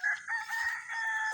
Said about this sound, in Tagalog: Native na manok.